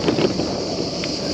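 Headwind rushing over the microphone during a long-distance bicycle tour, a loud, steady roar of wind buffeting with no voices.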